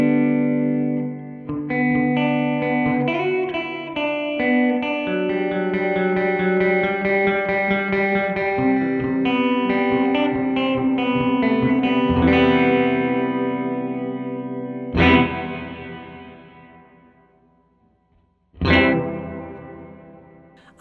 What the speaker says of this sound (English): We're starting with Hall, level all the way up,